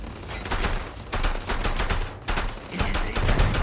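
Sustained automatic weapon fire from a firefight in the space game Starfield, dense and loud in rapid bursts with two brief pauses, no talking over it.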